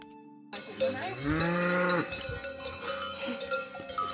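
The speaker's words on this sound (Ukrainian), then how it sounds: "Ще ми зустріли велику кількість корів" A herd of cows on a mountain hiking trail, very close, with clanking cowbells and a long, loud moo rising over the jangling, followed by scattered bell clatter and shuffling.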